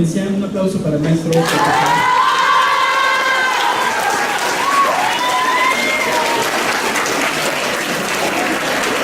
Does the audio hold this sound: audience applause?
yes